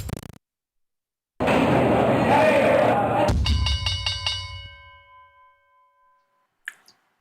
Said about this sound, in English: This is the opening bell.